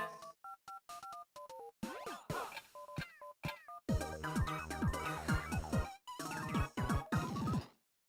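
Cartoonish electronic cat meows in the WarioWare D.I.Y. video game, a quick series of short chirpy tones followed by a busier, layered jingle of meow-like notes, fairly quiet.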